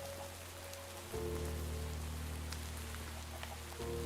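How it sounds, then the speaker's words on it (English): Soft, steady rain falls in a video game, a faint continuous patter over a low, humming ambience that shifts level partway through. "It's raining"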